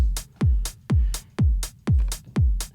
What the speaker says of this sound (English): So if I solo my kick and my hi-hat, it sounds like this.